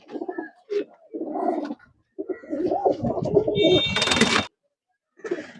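A pair of pet pigeons at a house give several soft cooing calls in short bursts, close by, with a brief high chirp near the end and quiet gaps between calls.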